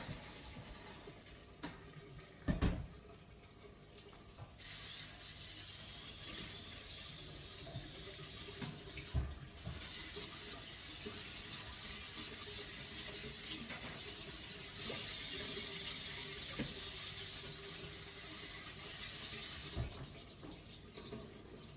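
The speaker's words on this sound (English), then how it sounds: "I'm going to go and use my basket here and get rid of all of that water. I'm going to do it down the sink today" Potato cooking water from a Thermomix pours through its basket into a kitchen sink, a steady hissing gush that runs for several seconds, pauses briefly, then resumes for about ten seconds before stopping, with faint clatter around it.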